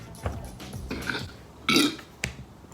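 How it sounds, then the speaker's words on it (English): A person burps after drinking wine, a couple of short throaty belches spaced apart, close to the microphone with no talk over them. "I'm always burping with wine"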